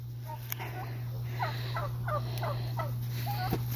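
Turkeys gobble repeatedly in a quick series of warbling calls, moderately near, over a steady low electrical hum and faint background noise.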